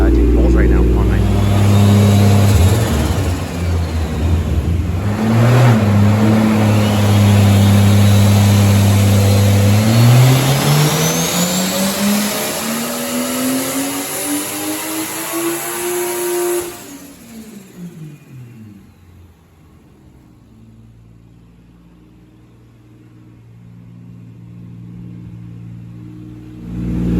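A 500whp Toyota Supra engine roars through a 10 PSI pull, revving up hard in a long rising sweep, easing off briefly, climbing again, then dropping back to a quiet idle.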